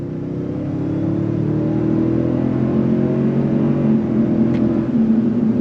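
The engine of a 2025 Toyota Sequoia TRD Pro full-size SUV with off-road tires rises in pitch under throttle, a loud steady in-cabin drone that builds over several seconds.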